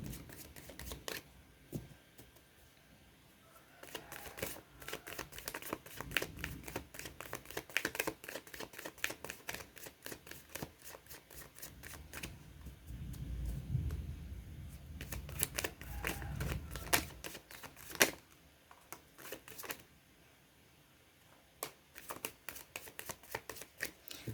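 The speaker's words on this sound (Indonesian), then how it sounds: "Kita kocok kartu dulu." A deck of tarot cards is shuffled at length, a steady run of soft, rapid papery flicks and taps, fairly quiet and close, continuing for over twenty seconds without speech.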